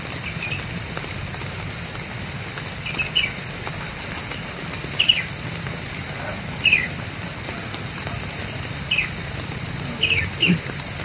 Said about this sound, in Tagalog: Maulan naman.